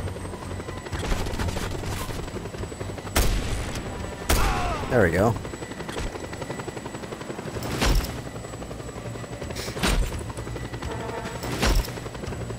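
Helicopter in a video game about wrecking things and robbing a bank, a steady rotor drone under gunfire bursts and a rising whine, with someone talking over it.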